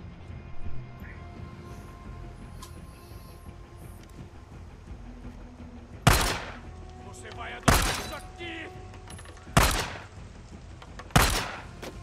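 Four sharp, loud bangs of gunfire in the game Days Gone ring out at regular intervals of about a second and a half, cutting through a busy background with voices.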